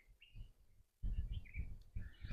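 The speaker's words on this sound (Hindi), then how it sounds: "चिड़ियाँ बोल रही हैं" Small birds chirp and whistle on a forest hiking trail in the Margala Hills, repeated high calls, moderately distant, over a low rustling rumble.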